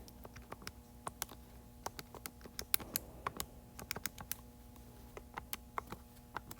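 Keys on a calculator keypad are pressed in quick, irregular taps, each a short sharp click, close and quiet over a faint steady hum.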